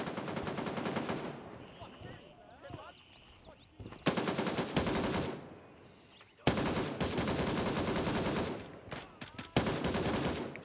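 Bursts of AK rifle gunfire from the video game Gray Zone Warfare, several sustained loud volleys separated by brief pauses, with players talking over the shooting.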